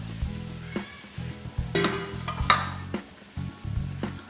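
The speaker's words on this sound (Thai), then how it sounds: "ปล่อย ไว้สักพักหนึ่งให้เนื้อปลาสุกก่อน" Chunks of striped catfish cook in a simmering curry in a pan, giving a soft sizzling and bubbling with a few clinks of a utensil against the cookware, close by and without speech.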